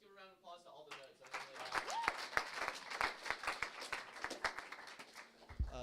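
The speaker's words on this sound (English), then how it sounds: "Let's give a round of applause to all the nodes." Scattered clapping from a few participants in a virtual conference, sparse uneven claps mixed with talking and chatter, fairly faint and close-miked.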